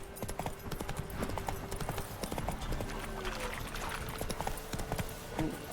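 Roach, the horse in the video game The Witcher 3, gallops with a quick, steady clip-clop of hooves, fairly quiet and continuous, with a faint snort or whinny and some background game sound.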